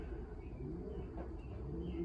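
A racing pigeon hen coos softly in a loft, low and faint, with a few gentle murmuring calls over a quiet background rumble.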